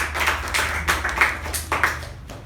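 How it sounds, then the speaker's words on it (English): Applause from a small audience at a club meeting, a burst of scattered hand claps of moderate loudness that thins out toward the end, heard alone without talk. "Can I have a round of applause, please?"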